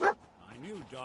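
A single short dog yip from the companion dog in the video game Fallout 4, brief and fairly faint, followed by a voice speaking.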